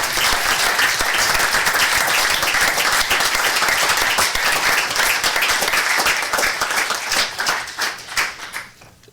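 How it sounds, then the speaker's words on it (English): A city council meeting audience applauds the fire department with steady, dense clapping that holds for several seconds, then thins into scattered claps and fades out. "Round of applause for you guys"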